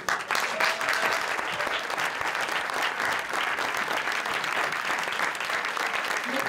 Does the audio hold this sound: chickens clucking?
no